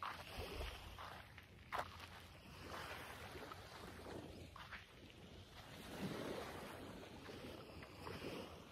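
Ocean waves wash steadily onto a beach in Okinawa, a faint continuous surf with gusts of wind buffeting the microphone and a slight swell midway.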